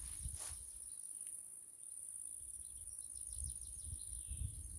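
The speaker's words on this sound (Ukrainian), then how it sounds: "Співають. Співають цвіркуни." Steady insect chirring from crickets fills the background of a village outdoors, with faint bird calls and a soft outdoor hush; no voices.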